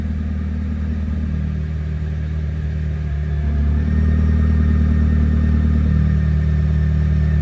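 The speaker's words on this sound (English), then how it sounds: "So when I press active, exhaust tone changes." McLaren Speedtail XP10 hypercar idling with its exhaust in active mode, a steady deep rumble that swells slightly louder and fuller partway through, heard close with no talking.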